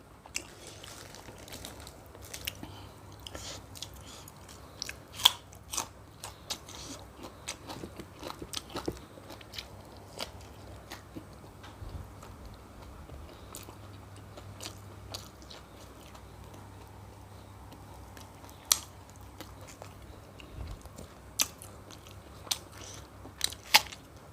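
Close-up chewing of ground mackerel dip eaten with fresh vegetables, soft crunches and wet mouth sounds repeating irregularly over a quiet background, with no talking.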